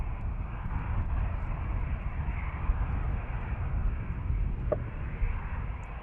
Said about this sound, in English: the A320 to Manchester from EasyJet is also approaching